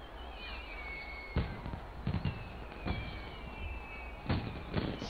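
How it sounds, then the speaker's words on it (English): Fireworks in the Final Fantasy XIV Shadowbringers Rising event burst in a handful of sharp pops and crackles spaced a second or so apart, with whistling rising streaks over quiet in-game music. "There is those fireworks."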